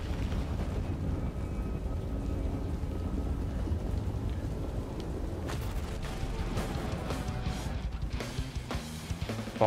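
A rainstorm with rumbling thunder in the video game Risk of Rain 2: a steady, dense wash of rain under low continuous rumbles, with a few sharper cracks near the end.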